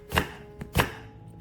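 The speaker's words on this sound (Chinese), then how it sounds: "准备半个洋葱，洋葱切丝。" A knife slicing half an onion into strips on a cutting board: two firm, close chops a little over half a second apart, with a faint tap between them, no voices.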